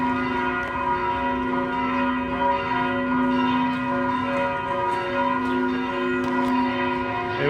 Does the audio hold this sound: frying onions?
no